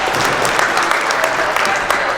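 Audience applause at an informal intro talk, a dense steady wash of many hands clapping at close range, loud and continuous for the whole stretch with no break.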